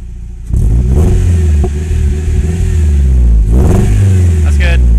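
Nissan S14 engine revving hard as the gas is hit, loud and close, with sharp rises in pitch repeated a couple of times over a rumbling idle; a voice is briefly heard.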